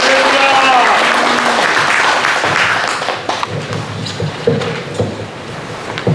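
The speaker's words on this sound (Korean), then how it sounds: "다 같이 뜨거운 환영의 박수로 축하해 주시길 바라겠습니다" Warm, full applause from an audience at a film project launch ceremony greets a pastor stepping up to speak, loud for about three seconds with a voice over it, then dwindling to scattered claps and thumps.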